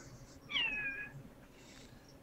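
A cat meows once, a clear rising-and-falling cry close by over a low background hum, with a faint second sound trailing after it.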